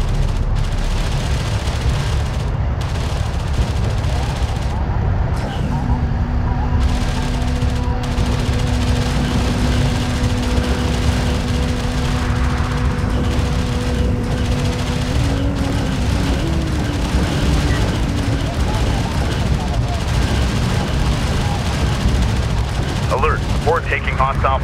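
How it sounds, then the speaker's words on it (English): Gunfire strikes an armored vehicle in the Homeworld: Deserts of Kharak desert battle, dense crackling volleys and booms rolling continuously under droning engine hum, with radio voice chatter over the top. "Armor vehicle taking effective fire"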